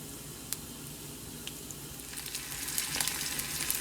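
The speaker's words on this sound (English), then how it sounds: "When oil is well warmed, I'm adding half a tablespoon of cumin" Cumin seeds crackling in hot oil in a pan, a soft steady sizzle with sparse pops that grow busier and louder toward the end.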